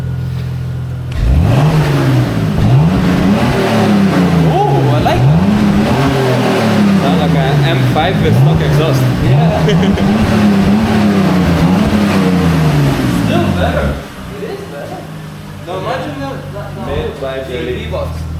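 A BMW E39 520i engine revs repeatedly in rising bursts through a new exhaust, loud and close with a throaty exhaust note, then settles to a lower idle.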